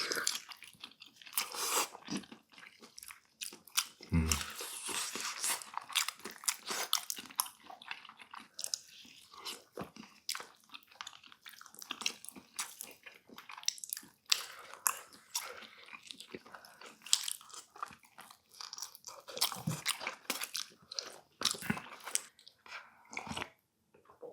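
Someone eats Korean jokbal, boiled pork feet, up close, with repeated wet bites, chewing and occasional crunches in an uneven rhythm and no talking.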